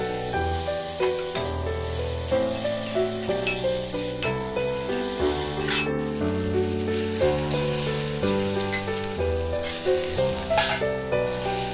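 Chopped onion, shrimp, tomato and chili sizzle in a pan for a pointed gourd fry, a continuous close hiss with light stirring, running under loud steady background music.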